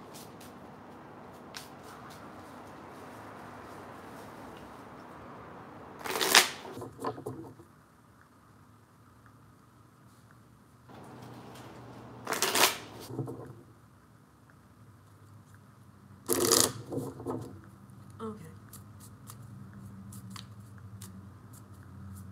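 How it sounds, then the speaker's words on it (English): A Halloween oracle card deck being shuffled gives three short rustling, flicking bursts spaced several seconds apart, close by against a faint steady room hum. "let me go ahead and mix these cards up a bit"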